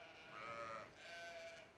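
A sheep bleats in a handling pen, a single drawn-out wavering call followed by a second softer one, fairly close and alone with no talk.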